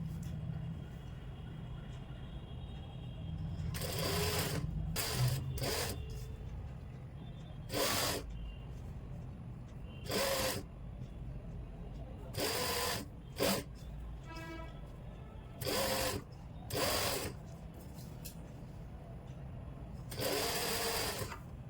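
A sewing machine stitching frill lace onto a dupatta runs in repeated bursts of rapid, close mechanical whirring, each lasting a second or two, separated by short pauses with faint handling sounds.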